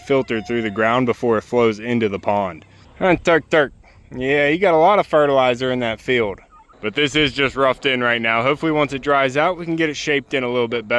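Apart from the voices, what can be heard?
No everyday noises stand out.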